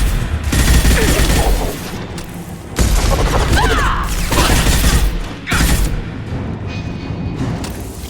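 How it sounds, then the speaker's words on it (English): A high-impact shot fired in the sci-fi shooter Mass Effect 2 during a fight against the Collectors, heavy booming blasts and rumbling bursts in loud clustered waves with mechanical whines between them. "Firing a high-impact shot."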